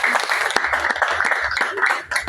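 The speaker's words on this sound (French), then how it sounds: "Je voulais qu'on applaudisse très fort pour le professeur." A gathered audience of artists gives a professor steady, close applause, with many hands clapping continuously and a few voices murmuring underneath.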